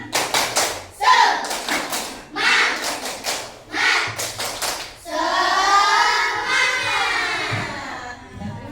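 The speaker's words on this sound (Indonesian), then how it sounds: "Tepuk semangat!" A class of children claps out a rhythmic cheer pattern, sharp bursts of hand claps in quick groups with short pauses, followed by a teacher's voice speaking.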